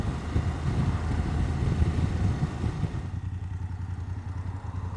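BMW F750GS motorcycle engine running while riding, a steady low smooth drone mixed with wind buffeting on the microphone, easing slightly partway through, close and continuous.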